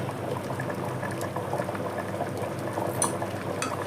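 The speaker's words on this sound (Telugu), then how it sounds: "పులుసు వేసాం కదా, వావ్ సూపర్, మంచిగా మరలుతుంది" Tamarind curry (pulusu) with goat head simmers in a pot, giving a steady, close bubbling and gentle popping, with a few brighter crackles and no voices.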